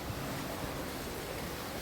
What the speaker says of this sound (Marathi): मस्त हवा हवासुद्धा सुटले